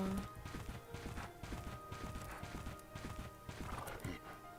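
A horse in the Bella Sara video game gallops with quick, even clip-clop hoofbeats and a whinny, a steady run of game sound effects heard alone.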